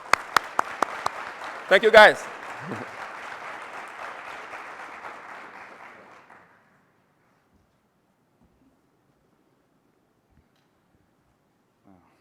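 Conference audience at a sports-governance event applauds in a warm, steady wash of clapping that fades out after about six seconds, with a brief spoken thanks near the start, then silence.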